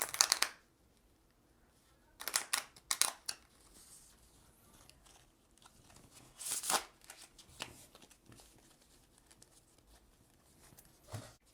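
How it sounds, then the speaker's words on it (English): Cards from the candy deck of the Sugar Heist board game are shuffled by hand in bursts of crisp riffling and flicking, separated by quiet pauses and softer handling rustles, close and fairly faint. "So we'll shuffle this,"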